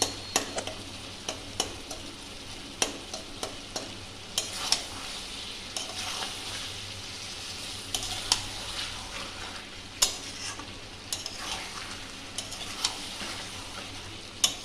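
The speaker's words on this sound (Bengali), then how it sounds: "দেখো আমার কষানোটা হয়ে এসছে প্রায়।" Jackfruit curry sautéing in a pan, with a steady oil sizzle throughout and repeated sharp scrapes and taps from a spoon stirring the mixture, close and fairly quiet, no voices.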